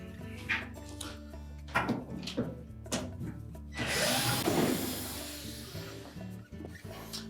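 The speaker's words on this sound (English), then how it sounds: "We'll need to take out four screws that secure the bulkhead to the cabinet" A power screwdriver or drill runs in short bursts while screws securing a Samsung dryer bulkhead to the cabinet are removed, followed by a louder rattling clatter of metal parts; no talk.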